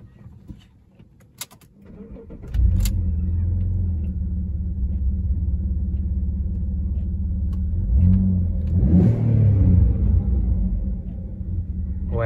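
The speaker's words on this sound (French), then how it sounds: "puisqu'on a un V6 Busso sous le capot, faut quand même que je vous le fasse entendre" Alfa Romeo 156 GTA from 2003 with its 3.2 V6 Busso engine idles with a steady low rumble after a start, then swells into a loud rev near the end before settling back down.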